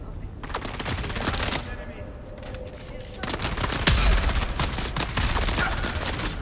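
Video game gunfire in Dune Awakening: bursts of rapid shots crack in clusters, dropping off briefly then returning louder near the end, over a busy game backdrop with players talking.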